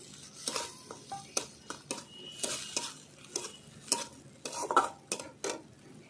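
Chopped tomato is stirred into a pan for a small tilapia fish curry: a spoon scrapes and clinks against the metal pan in irregular strokes, close by, over a faint, low sizzle.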